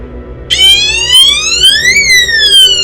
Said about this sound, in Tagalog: Alarm has been activated.